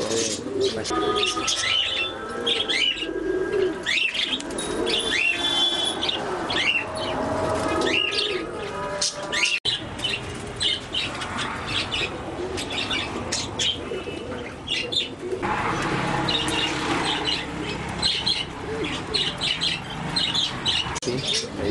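Pigeons coo and budgerigars chirp continuously at a pigeon farm, with wing flaps and overlapping calls from many birds close by throughout.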